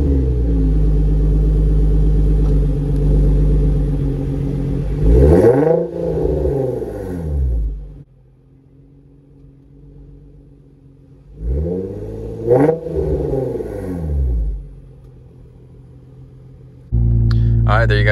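A car fitted with a Motordyne exhaust and hard pipes revs up to about 3000 rpm twice, each rise and fall loud and close, with a quiet idle between the pulls.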